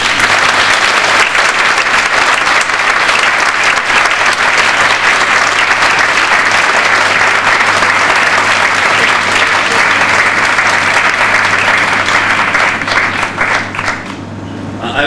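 Sustained, dense audience applause fills a school talk venue on parenting and children's success in Pattaya, loud and steady throughout before thinning slightly at the very end, with no voices over it.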